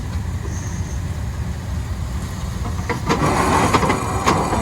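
A 2020 Hyundai Venue in snow mode rolls onto dyno rollers with a low steady rumble of engine and tires that swells louder toward the end, with faint clunks and no talking.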